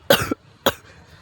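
A man coughs twice, a harsh double burst followed after a short pause by a single shorter cough, close by.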